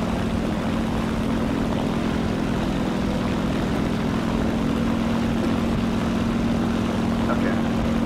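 Steady droning propeller aircraft engine in the War Thunder video game, a continuous loud hum with a strong low tone holding without a break throughout.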